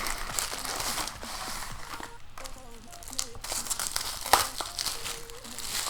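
A plastic parcel from Wish is opened by hand, with steady crinkling and crumpling of plastic packaging and occasional tearing and rustling. A voice talks softly underneath.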